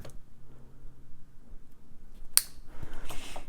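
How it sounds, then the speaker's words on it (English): A single sharp snip of wire cutters trimming excess jewelry wire while making Valentine's Day themed earrings, close and crisp against a quiet room, followed by faint handling rustle. "And then we'll cut off the remaining extra bit of our tail."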